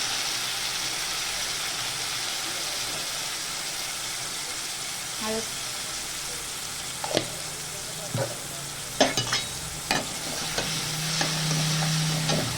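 Chana dal and green chilies fry in hot oil for a cabbage stir-fry, with a continuous sizzle and later sharp clinks and scrapes of stirring in the pan.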